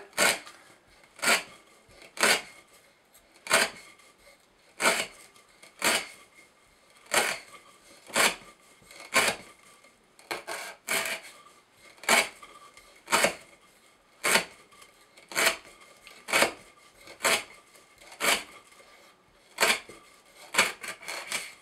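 CRKT Shenanigan knife with Acuto steel slicing through rope, a steady series of about twenty sharp, crisp snapping cuts spaced roughly a second apart, close and clear with no talking.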